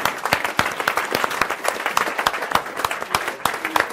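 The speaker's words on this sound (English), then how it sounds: "Big round of applause." A small audience claps with distinct, separate handclaps in an uneven rhythm that holds steady for several seconds, close and moderately loud.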